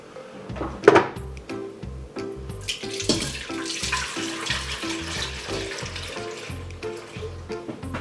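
Milk pours and splashes steadily into the metal pot of a pressure cooker, with a clunk near the start and kitchen clatter throughout; no voices.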